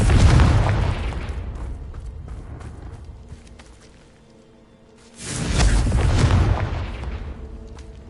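Confringo fire spell explosions in Hogwarts Legacy on PS5, two loud, deep booming bursts with rumbling tails separated by a quieter lull, no talk.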